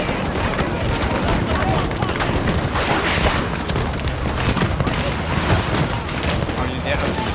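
Dense, continuous gunfire in a Breakthrough-mode online shooter match on PC, rapid overlapping shots and bursts with booms, loud and close throughout.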